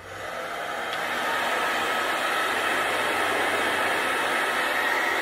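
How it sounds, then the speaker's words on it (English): A hair dryer on its cool setting blows steadily, rising over the first second into a constant, loud whooshing hum that continues without a break. "I'm going to turn my hair dryer on again, and we're going to turn it on to cool"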